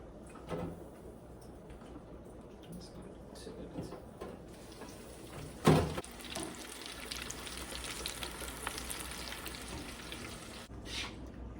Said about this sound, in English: When we come back, we'll fry the lobster